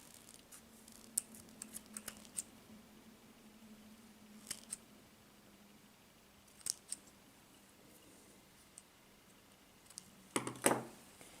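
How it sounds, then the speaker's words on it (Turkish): Scissors snip the ends of a yarn tassel in a few faint, sparse clicks spread out over a quiet background. "Ve püskülümün uçlarını kesiyorum artık."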